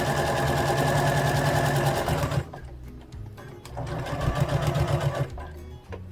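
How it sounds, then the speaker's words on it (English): Sewing machine backstitching along the side seam of bear overalls, 1.5 cm from the edge: a loud steady run of rapid stitching, a short pause near the middle, then the motor resumes in a second burst. "Backstitch. Sewing down the side."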